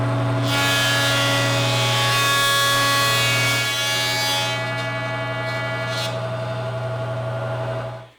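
An 8-inch jointer planes sapele mahogany boards in a loud, steady mechanical roar with a constant hum, held for several seconds before spinning down and fading at the end.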